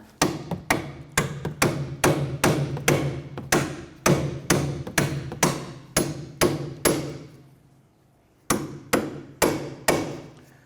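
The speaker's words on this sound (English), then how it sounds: "Once we get our bolt started on there, let's go ahead and tap that in." A hammer taps a bolt into a Chevrolet Impala rear strut with about twenty sharp metallic strikes in quick runs, broken by a short pause before a final few blows, close and loud.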